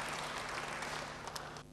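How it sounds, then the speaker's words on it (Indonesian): A church congregation claps for God during a worship service, brief even applause from the seated crowd at moderate level, fading out at the end. "Beri tepuk tangan yang baik bagi Tuhan."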